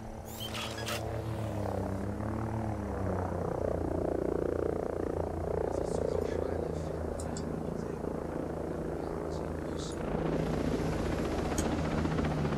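Helicopter rotor thumping steadily in a German-language tactical video game on Elite+ difficulty, a continuous loud drone running through the whole stretch with scattered game effects above it.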